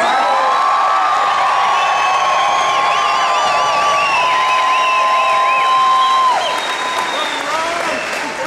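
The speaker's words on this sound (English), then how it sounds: "It's so great to see such an enthusiastic crowd" An enthusiastic crowd at a Ron Paul political rally in Springfield, Missouri applauds and cheers loudly and continuously, with whoops and shouts rising above sustained clapping.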